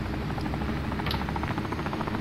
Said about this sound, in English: Get in the chopper.